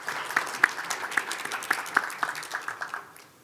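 Audience applause at a conference session at Yonsei University, scattered claps from a seated crowd thinning out and fading away over a few seconds.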